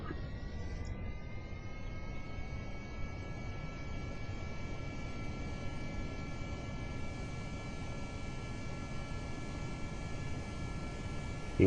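Steady engine roar from a rocket throttling up in the video game Kerbal Space Program, a continuous broadband rumble with faint tonal lines, holding level throughout without voices.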